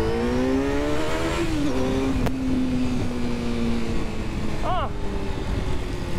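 A QJMOTOR SRK 800 RR motorcycle fitted with its stock exhaust runs at a steady engine drone while riding. Wind rush fills the background, and a brief rising tone cuts in near the end.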